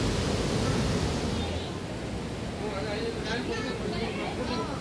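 The Nandini River rushes loudly through its channel, swollen by last week's rain, making a steady, dense roar of churning water that holds evenly throughout without letting up.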